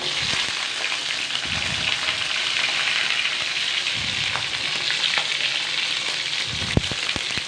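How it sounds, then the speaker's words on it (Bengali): Pointed gourd (potol) pieces hiss and crackle steadily in hot oil in a wok, a dense, fairly loud frying sizzle that runs throughout with a few sharper pops. "কড়াইয়ের মধ্যে তো তেল পুরো গরম হয়ে গেছে তো এবার আমি পটলগুলো দিয়ে দিলাম"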